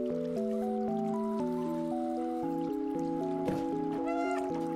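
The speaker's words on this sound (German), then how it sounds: "Miau." A short in-game cat meow from Stray rises briefly near the end over steady, stepped synth background music.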